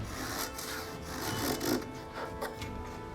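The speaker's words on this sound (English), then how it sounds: "Once you've rounded off both ends, you can cut your slide serrations if you want to." Cutting slide serrations into a thin wooden part for a rubber band gun replica of an HK VP70: a close, continuous rasping rub with repeated back-and-forth strokes, fairly loud, no voices.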